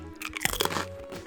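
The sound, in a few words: crunching a lightly toasted glazed sweet snack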